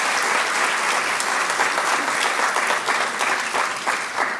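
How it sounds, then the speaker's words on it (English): Sustained, loud applause from a crowd at an Armenian Genocide 100th commemoration event, honouring Dr. Perumian; steady dense clapping with no voices, holding for several seconds. "So I think we need to give him a round of applause."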